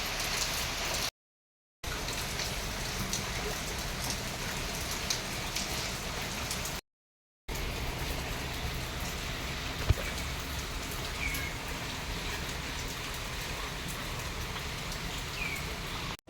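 Heavy rain pours steadily, a dense even hiss of drops hitting surfaces close by, continuous and loud with no voices.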